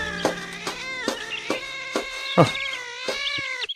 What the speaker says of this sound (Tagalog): Adda ka apat ti pusa di tasirok ti balite.